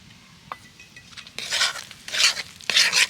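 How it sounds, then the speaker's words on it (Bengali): Grated coconut being mixed into palm fruit pulp in a bowl, three bursts of wet, squelchy stirring scrapes after a quiet start with a light tap, close and without talk. "এবার আমি তালের পাল্পের সাথেই নারকেলটাকে ভালো করে মিশিয়ে নিচ্ছি"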